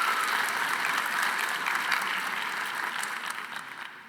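Audience applause at a keynote conversation, a dense, even wash of many hands clapping that stays steady before slowly fading, with no talking over it.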